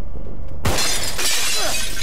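Glass shatters loudly in the zombie video game Contagion, a sudden crash followed by a dense, noisy spray of breaking shards that persists to the end, with no talking over it.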